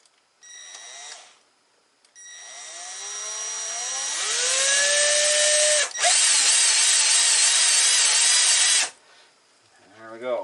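A Ridgid oscillating multi-tool is switched on in short bursts: a brief run, then a long whine that rises in pitch and holds loud and close before cutting off, with a faint voice after.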